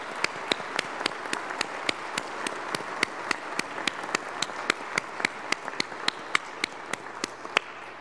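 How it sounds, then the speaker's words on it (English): Sustained applause from a congregation at a Chrism Mass, steady dense clapping with sharper individual claps standing out, filling the whole stretch at moderate volume. "A round of applause for them."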